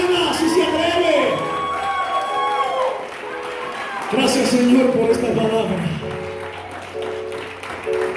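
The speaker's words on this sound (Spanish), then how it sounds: "Un aplauso al Señor esta mañana, si se atreve." Church congregation applauding, a broad wash of clapping and crowd noise running under someone speaking and sustained sung or shouted voices.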